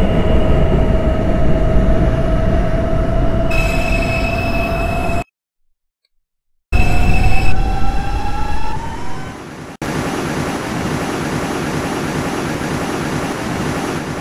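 An R142 subway train in the OpenBVE simulator game, running as a Manhattan-bound 4 express, rumbles loudly with a rising motor whine. It cuts out briefly, then returns with a pitch sweep and a steady heavy roll.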